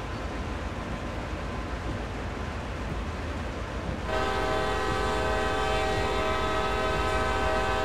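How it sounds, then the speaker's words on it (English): A CSX heavy haul freight train in Train Sim World gives off a steady loud rumble, then a sustained horn blast starts midway and holds to the end. "You won't be able to hear Iron over the train."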